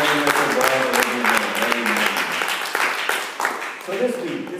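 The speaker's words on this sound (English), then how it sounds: "Please join me in standing and give God a hand clap of praise." A standing church congregation gives a hand clap of praise, dense clapping mixed with cheering voices and organ or keyboard chords, fading somewhat toward the end.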